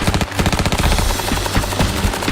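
A SAW light machine gun fires suppressive fire in a rapid, sustained burst of closely spaced, loud, booming shots right up close.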